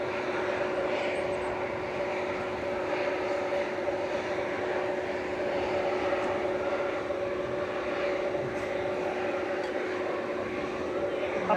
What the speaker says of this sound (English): Departing next on 23 left is going to be Turkish 1994 to Istanbul, TC LSF, A321neo